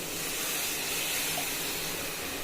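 Masala cooking water poured into a pan for a street-cart style pattani (green pea) masala, a steady, loud, hissing splash lasting the whole moment without pause.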